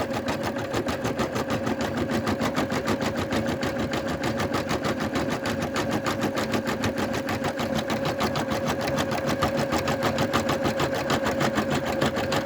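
An embroidery machine runs the final stitching step on a vinyl keychain design, a close, steady rapid needle chatter with a constant motor hum, unbroken for the whole stretch and with no talking.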